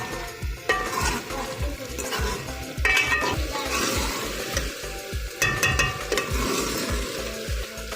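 Green beans and masala stir-fried in ghee for aloo phaliyan, with a steady sizzle broken by repeated scraping strokes of a spoon against the pan, loud and close, no voices.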